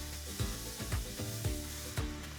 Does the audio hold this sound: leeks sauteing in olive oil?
yes